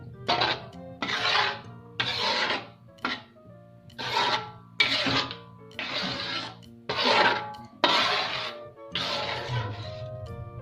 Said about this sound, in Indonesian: Nah setelah itu ini kita aduk lagi sampai dia merata.